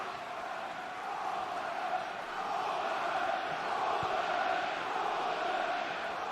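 Football crowd at a Port Vale versus Arsenal match, a broad steady roar that swells slightly and holds throughout, distant and continuous with no clear voices standing out.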